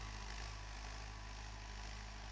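A 2019 Mahindra 575 DI tractor with a 6-foot rotavator runs at about 1600-1700 RPM in a wheat field, giving a steady, low, even engine drone that is fairly faint and continuous, with no speech.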